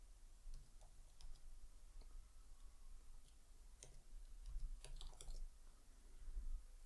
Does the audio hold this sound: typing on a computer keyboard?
yes